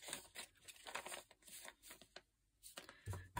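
Paper being cut and handled while making handmade printed paper bags, a series of short crisp rustling and tearing bursts close by, broken by brief pauses.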